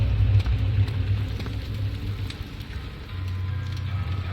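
Steady rain fills the Rainy Hall in Amnesia: The Dark Descent, a continuous even wash over a low rumbling bed that dips slightly midway, then carries on at the same level.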